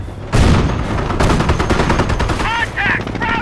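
Gunfire erupts in Company of Heroes, a loud close burst of rapid shots continuing for a few seconds, with short radio-like voice chatter near the end.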